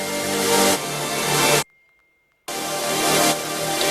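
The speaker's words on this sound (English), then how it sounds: "I bounced out this whole thing without drums and stretched it out 20 times and" A melodic dubstep track without drums, slowed twenty times with Paulstretch and layered, forms a dense, washed-out sustained texture that swells, cuts to near-silence for about a second, then returns at full loudness.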